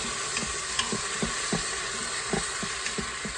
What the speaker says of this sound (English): You gotta stir around.